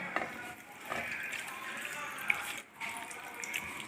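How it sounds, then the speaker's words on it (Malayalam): Water is poured into a clay pot of ripe mango curry with turmeric and salt, a soft, continuous splashing pour close by with light clinks. "നമുക്ക് ഇതിലേക്ക് വെള്ളം ചേർത്ത് കൊടുക്കാം"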